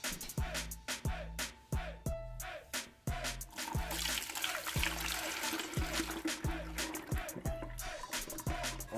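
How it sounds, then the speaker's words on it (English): Homemade elderberry syrup draining as a steady trickle of liquid, broken by a rhythmic series of sharp knocks and clatters roughly every half second, fairly close and fairly loud, with no talking. "now we're going to start the draining process"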